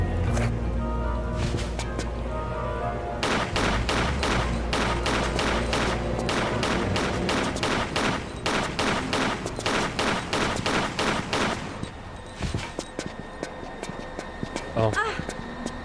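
Rapid gunfire from the Tomb Raider game in a fan-made level set at Tower Bridge in London, with dense volleys of sharp shots crackling over a steady low background, then thinning to scattered shots near the end.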